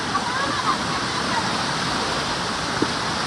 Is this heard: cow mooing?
no